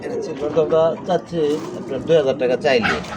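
A silver dom pigeon coos in a soft, rolling series of calls, heard up close among pigeons at a bird sale, with someone talking over and between the coos.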